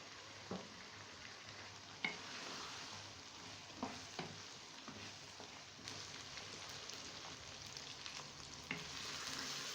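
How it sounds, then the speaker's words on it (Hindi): Potatoes fry in a pot of aloo keema with a constant low sizzle and occasional clinks and scrapes of stirring. The sound sits at a moderate distance, with no talking. "आलू डाल के मज़ीद 2 से 3 मिनट के लिए हम इसकी भुनाई करेंगे"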